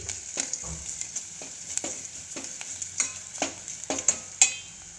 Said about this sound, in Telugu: పసుపు పొడి కొద్దిగా గరం మసాలా కొద్దిగా వేసుకొని బాగా ఫ్రై అవ్వాలి